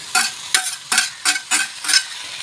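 Onions and cut tomatoes fry in a pan for tomato chutney while a spoon stirs them in six steady, evenly spaced scrapes over a close, hissing sizzle.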